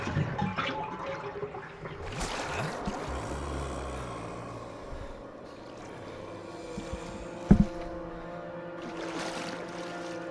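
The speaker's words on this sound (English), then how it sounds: "By draining this bathtub. It's full of dirty water. Remove the plug." Dirty water drains out of a bathtub in the video game Resident Evil Remake, a steady gurgling, rushing flow that runs for several seconds before easing off, with one sharp clunk partway through.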